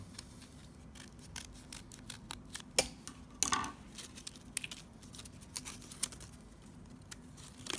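Scissors snipping through folded paper for a radial paper design, a series of short crisp cuts and rustles close by, with one louder cluster of snips midway, no talking.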